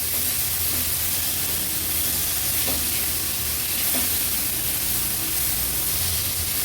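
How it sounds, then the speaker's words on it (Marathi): Finely chopped large tomatoes frying in hot oil with spices, a steady dense sizzle with faint stirring scrapes, close and continuous. "मसाले तेलावर परतून झाले की दोन मोठ्या साईजचे टोमॅटो अगदी बारीक चिरून घेतले ते ऍड करणार आहोत"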